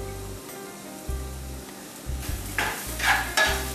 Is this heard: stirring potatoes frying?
yes